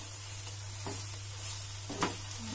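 Brinjal stir-fry sizzles quietly in a pot under a steady low hum, with a few soft scrapes and clinks as it is stirred.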